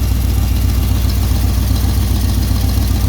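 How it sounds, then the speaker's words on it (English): A warmed-up 1968 Oldsmobile 455 V8 with rebuilt carburetors idles close by, a loud, steady low rumble with an even, slightly lumpy pulse and no voices. "Now we got just about a warm idle"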